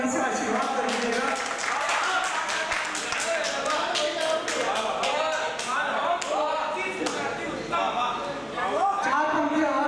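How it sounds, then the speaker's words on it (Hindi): Audience applause at a Hindi kavi sammelan poetry event, a dense steady wash of clapping running throughout with a speaking voice continuing over it. "एक बार जोरदार तालियों से आशीर्वाद कर दीजिएगा।"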